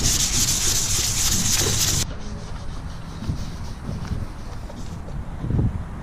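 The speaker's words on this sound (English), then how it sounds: "Got this side all sanded." Steady, coarse rubbing and scraping of sandpaper against car body paint continues throughout, with hissing grit and slight shifts in stroke intensity.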